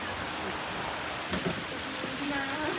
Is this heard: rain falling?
yes